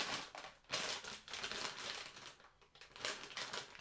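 Continuous crinkling of the plastic bag packaging a Baobab Cat 6 cable, close and fairly loud, with irregular rustling bursts and brief pauses throughout.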